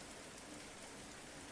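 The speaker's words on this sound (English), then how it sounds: "Raindrops patter gently on the cobblestones as she walks through narrow, quiet alleys." Gentle rain patters steadily on cobblestones in a quiet narrow alley at night, a soft continuous hiss of drops with no voices.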